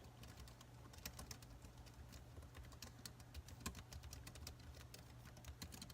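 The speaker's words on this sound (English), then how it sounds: "This is me just typing." Rapid, light key clicks from typing on a Microsoft Foldable Bluetooth keyboard, an irregular close-up patter of soft taps over a faint steady hum, with no talking.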